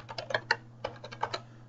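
Rapid clattering keystrokes on a computer keyboard as stock tickers are entered one at a time, in short uneven bursts with a brief pause midway, close and fairly quiet, with a low steady hum beneath.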